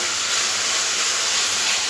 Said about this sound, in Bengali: বাঁধাকপিটাও সবগুলো একসাথে সব সবজিগুলো ভাজতে হবে।